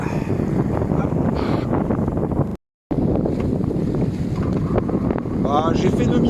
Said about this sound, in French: le vent est en train de monter